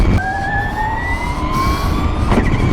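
Electric race car on a track, rear-wheel drive with its electric motor, giving a loud steady rising whine over road and wind noise throughout, with no talk.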